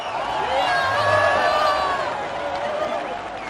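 A huge crowd gathered at the Berlin Wall in 1989 fills the air with a steady, loud roar of voices and cheering, with excited shouts rising briefly over the sustained mass of noise.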